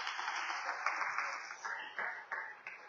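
Applause from a congregation during a church worship service, steady broadband clapping that swells and pulses in waves across the whole stretch, fairly distant and moderately quiet, with no voices over it.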